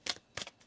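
Tarot cards are shuffled close by in two quick, crisp riffling bursts, with a faint third rustle after a short pause, in a quiet room.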